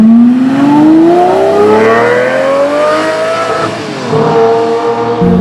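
A Lamborghini Murcielago LP640 engine pulls loud and close from the cabin while driving, its pitch climbing steadily through a long acceleration, dipping at a gear change, then building again, with no talking over it.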